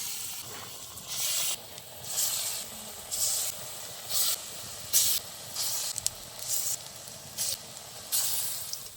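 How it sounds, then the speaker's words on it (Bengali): Lentil fritters fry in hot oil, giving a soft steady sizzle broken by repeated louder hissing bursts as batter pieces drop into the pan, with no voices. "আবারও একই শেপ করে আমি তেলে দিয়ে দেবো বড়াগুলো।"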